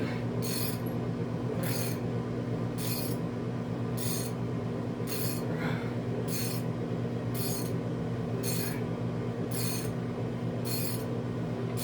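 Loosening the cylinder head bolts on an L98 engine gives a regular series of about eleven short ratcheting clicks from a wrench, evenly spaced roughly once a second over a steady low mechanical hum.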